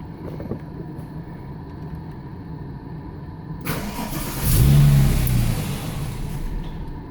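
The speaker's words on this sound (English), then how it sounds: "Now we're going to turn the engine over a couple of times just to get rid of the residual fuel." Porsche 911 Turbo 996 engine cranked over in a garage: quiet background hum, then a starter whir and a loud, rough engine surge that swells and fades away.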